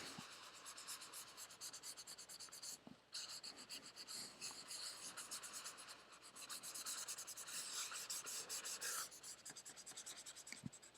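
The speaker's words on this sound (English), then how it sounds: "I'm going to kind of burnish this in a little more too." A pencil burnishes shading into a drawing with steady, close, soft scratchy rubbing strokes, briefly pausing before the rubbing resumes, with no talking.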